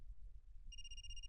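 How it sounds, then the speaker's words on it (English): A phone in the video game Another Code Recollection starts ringing partway through, a clear electronic ringtone tone over a low background hum, with no voices. "That's my phone."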